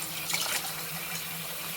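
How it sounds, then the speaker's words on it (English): Roasted chilies for chile relleno rinsed under a running cold-water tap, a steady close splashing stream of water with no talk. "Rinse them in cold water and we're going to peel."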